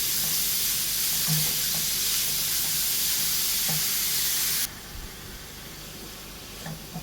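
Onion and carrot sautéing for bread upma, a dense hissing sizzle that drops suddenly to a quieter frying sound, with occasional soft stirring knocks.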